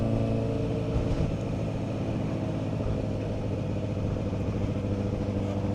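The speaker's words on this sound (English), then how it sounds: "isn't it lovely on a Sunday with traffic?" Busy Sunday road traffic rumbles steadily nearby, a dense low engine drone of cars with idling and passing vehicles, continuous and moderately loud with no voices.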